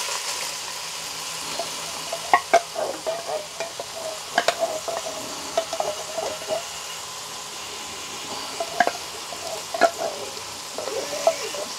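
Ground meat with Manwich sauce stirred in a Ninja Speedi set on high, a spoon scraping and knocking against the pot in irregular bursts over a low, steady sizzle and hum.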